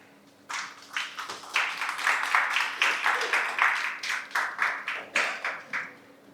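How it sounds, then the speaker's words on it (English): An audience claps for a panelist being welcomed on stage at a panel event, a steady round of hand claps that starts abruptly, holds for several seconds and then thins into scattered fading claps. "please give a round of applause to Miss"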